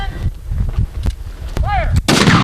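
Ranks of reenactors fire a musket volley at an outdoor historic site on Mackinac Island, a series of sharp, loud cracks and booms that echo across the open air, with a brief shout among them.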